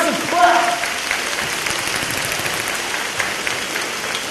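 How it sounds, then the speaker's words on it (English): Applause from a large audience at a company employee rally, a steady wash of many hands clapping that fills the room throughout, with a voice briefly audible at the start. "That's a clap."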